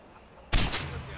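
A sudden burst of gunfire from the shooter Far Cry 4, loud and close, with a sharp first crack and a second quick report, then a lingering echo over faint background ambience.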